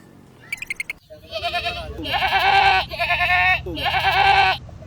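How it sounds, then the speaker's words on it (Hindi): A male goat bleating loudly and repeatedly at close range, three long wavering cries after a brief clatter, in a rural farm setting with livestock. "बकरा कितना बोल रहा है, उसके पेट में दर्द होगा यार"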